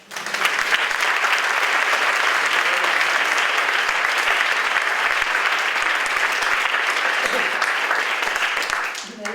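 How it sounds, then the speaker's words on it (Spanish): Big audience applause in a lecture hall, dense steady clapping from many hands filling the whole stretch, loud and sustained before tapering at the end, with no talk on top. "Entonces un aplauso para él enorme."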